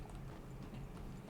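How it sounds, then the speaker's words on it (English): Horse hooves clip-clop steadily at a walk in the Red Dead video game, a soft continuous rhythm over low ambient noise. "Alaska here is a good horse"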